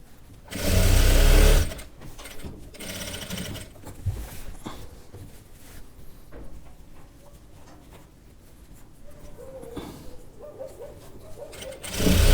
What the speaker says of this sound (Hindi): पहले तो हमने सेंटर से रख के सिलाई लगानी है इस तरीके से।